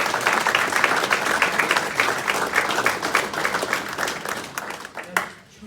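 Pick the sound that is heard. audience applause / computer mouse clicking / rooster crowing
audience applause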